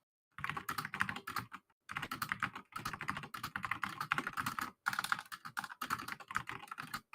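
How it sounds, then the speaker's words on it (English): Someone types hard on a computer keyboard, firing off rapid, loud, close keystrokes in dense bursts split by short pauses, with no talk. "I always find it amusing how aggressively he presses enter."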